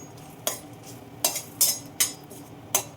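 Mustard seeds, fenugreek, urad dal and dried red chillies fry in hot oil, with a low sizzle under five sharp, close clinks of a utensil against the pan at irregular intervals.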